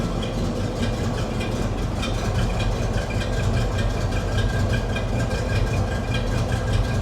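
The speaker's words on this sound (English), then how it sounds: "Idles really well, runs well." A 1972 Chevrolet Camaro engine idles after a cold start, a steady, loud, even rumble with a continuous mechanical texture and no talking.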